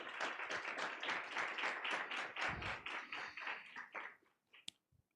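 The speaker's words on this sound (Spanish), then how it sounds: "Lo recibimos con un fuerte aplauso" Audience applause for a speaker at a university psychology event, a steady patter of many hands clapping for several seconds before thinning out to a few scattered claps and silence.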